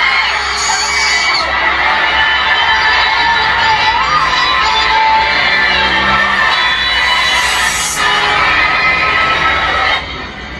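A dense, loud concert crowd cheers, screams and whoops continuously at the Wish Music Awards during a performance, with children's shrieks in the mix, before the roar drops off abruptly near the end.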